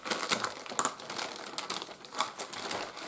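A sealed motherboard box for a cheap Chinese micro ITX board being opened, close crinkling and crumpling of packaging with quick irregular rustles and tearing bursts, no voices.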